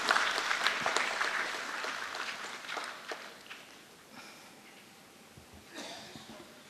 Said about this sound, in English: Big round of applause, ladies and gentlemen, as he unveils the BSE SME fact sheet